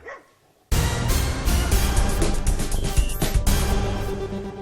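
A pack of stray dogs barks loudly and continuously outdoors, with overlapping harsh barks close by, after a brief quiet start.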